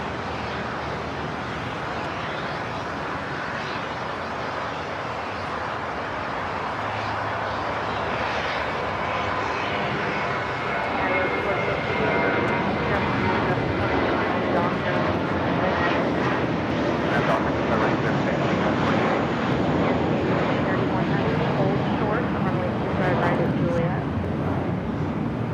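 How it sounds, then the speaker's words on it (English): American Airlines Airbus A321 jet at Los Angeles airport, bound for San Francisco, its engine roar loud and steady, swelling further in the second half, with people talking over it. "The flight was sending to SFO, flight 2862, A321 with American."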